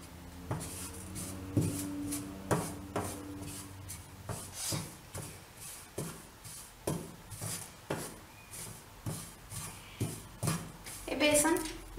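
Gram flour (besan) is stirred and roasted in a little oil in a pan. A spoon scrapes the pan in regular soft strokes, close and fairly quiet, with faint voices in the background.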